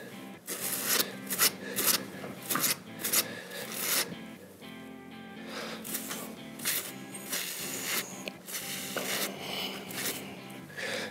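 Brush strokes run through a mare's long, curly tail, worked section by section in short increments, giving repeated close raspy swishes in irregular bursts with no talking.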